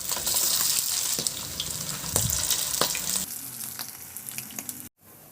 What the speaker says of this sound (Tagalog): Nagpainit na rin ako ng mantika sa kawali. At iprito na rin natin yung ating tuna patties.